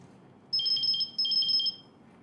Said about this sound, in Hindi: तुम्हें किसका फोन आ रहा है बार बार?